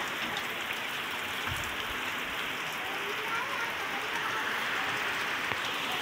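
Heavy rain pours down in a steady, dense hiss, close and constant throughout, with no pauses and no voices over it.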